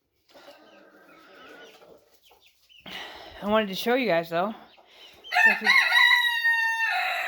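Backyard silkie chickens let out to roam, with fowl calls, including a rooster-like crow, rising in bursts over a quiet background while a person talks nearby.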